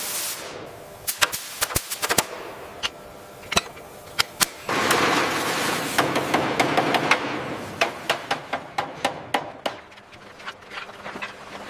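Sharp, irregular metallic cracks and raps from a scaler knocking rust off a 1908 steam traction engine, a rapid cluster of strikes followed by a denser rattling stretch over a steady workshop background.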